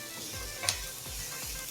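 Vegetables for chicken fried rice sizzle in a pan on high flame, a soft steady frying hiss with rhythmic scraping strokes of stirring and one brief clink, fairly close and without talk.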